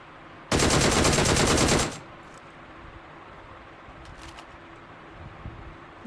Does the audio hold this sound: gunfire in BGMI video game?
yes